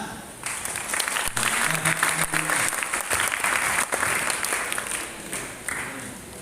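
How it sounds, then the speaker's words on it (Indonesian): Audience at a Ramadan Islamic boarding school study session claps in sustained applause, dense and steady with a few brief voices, fading slightly at the end. "Ya, baik, tepuk tangan."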